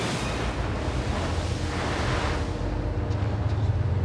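Stormy southern ocean churns around a lobster fishing boat in a 4 to 6 metre swell, a heavy continuous roar of wind and water with deep rumbling surges, loud and close.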